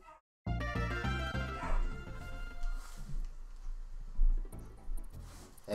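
Cartoonish dog barks and yips from the Donkey Kong Country video game, sounding over busy synthesized game music with bouncy melodic notes; the barking is light and intermittent rather than dominant.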